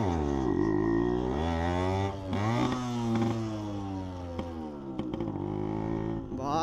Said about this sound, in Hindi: साइड में भाई साहब सुन रहे हो ना एग्जॉस्ट, काफी ज्यादा लाउड एंड काफी ज्यादा सेक्सी आवाज है